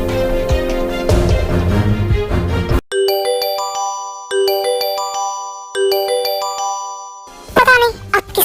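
Mobile phone ringtone sounding late at night, a bright chiming melody repeating three times in clear bursts after a stretch of loud voices and background music, with a voice returning at the end.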